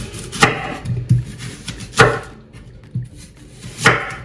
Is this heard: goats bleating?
no